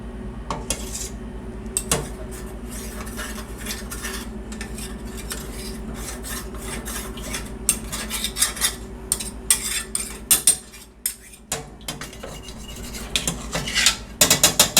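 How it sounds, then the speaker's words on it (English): Chocolate pudding being stirred in a pot on a stovetop over medium heat, with a steady run of utensil scrapes and light metallic clinks against the pan that grow busier and louder toward the end, with no voices. "Okay, and then you just want to stir."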